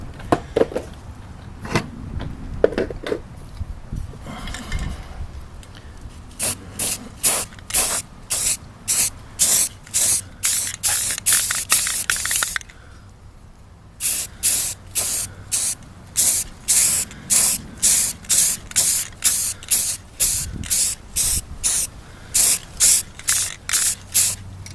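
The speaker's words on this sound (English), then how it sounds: "next step is to spray a little rust reformer on there" An aerosol can of rust reformer sprays onto a shovel in a long series of short, sharp hissing bursts, evenly rhythmic and close. A brief pause breaks the run midway, and softer handling noises come first.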